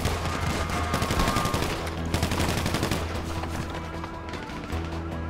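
Rapid bursts of gunfire from the video game GTA V on Xbox One crackle continuously and loudly, layered over game engine and ambient noise with no talking.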